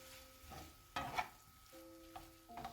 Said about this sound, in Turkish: kıymayı ilave edelim ve kıyma suyunu salıp çekinceye kadar karıştıralım